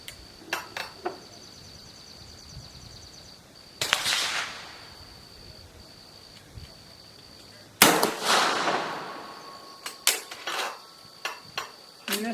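An Italian 1870/87 Vetterli TS carbine fires during sighting in at an outdoor range, sharp loud reports spaced several seconds apart with brief mechanical clicks and handling noises between shots.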